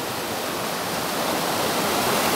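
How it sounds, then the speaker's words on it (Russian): A rocky mountain stream pours down over rock steps, a dense, loud, steady rush of water heard up close without any voices. "Вот тут по каким скальным породам спускается вода"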